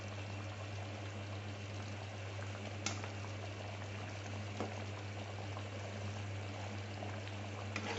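Shahi paneer gravy simmers in a pan with ghee, giving a steady, quiet bubbling hiss under a low constant hum, with a few faint clicks along the way.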